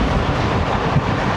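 Pakistan Railways' Raftar railcar runs along the line with a steady rumble of wheels and rushing air, recorded from a doorway on the moving train, loud and continuous without talk.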